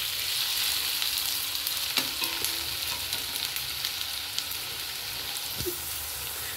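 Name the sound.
vegetables frying for mixed fried rice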